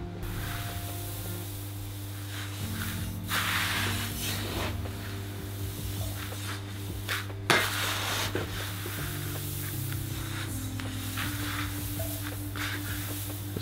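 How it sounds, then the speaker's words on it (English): A mash paddle stirs dry crushed malt grains and rice hulls for a New England IPA, giving a steady soft rustling scrape beneath a constant low hum, with a few louder sweeps and no voices. "We'll give this whole thing a nice big mix up with the mash paddle while it's still dry"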